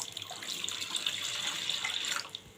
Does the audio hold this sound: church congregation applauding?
no